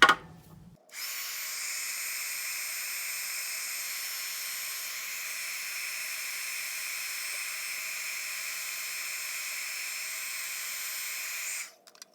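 An embossing heat tool blows hot air over clear embossing powder on a card, a steady loud hissing whir that starts after a brief pause and runs continuously for about ten seconds before cutting off.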